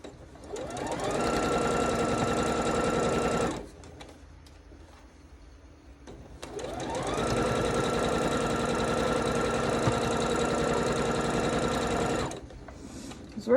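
A sewing machine sews a quilt in two long, even stretches of fast rhythmic whirring, split by a pause of a few seconds, and the motor runs steadily and close with no talking.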